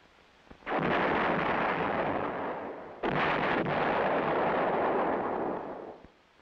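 A heavy self-propelled howitzer fires twice, each a loud booming blast followed by a long, roaring rumble that fades out, with a sharp second shot arriving about two and a half seconds after the first.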